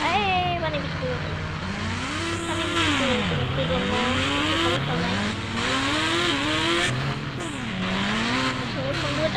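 Motorbike engine in the Indian Bikes Driving 3D video game, a steady revving drone that rises and falls in pitch as the bike speeds up and slows, with tire noise, loud and continuous.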